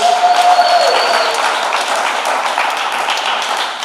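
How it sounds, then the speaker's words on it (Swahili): A church congregation breaks into sustained, loud clapping that fills the room steadily from start to finish, with only faint voices beneath. "Makofi kwa Yesu."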